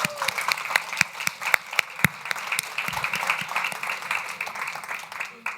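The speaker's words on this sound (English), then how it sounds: "I'm going to give another round of applause for our wonderful panelists." An audience at a CGI 2023 health equity event applauds its panelists, a moderate, steady patter of clapping from a room-sized crowd that holds for several seconds.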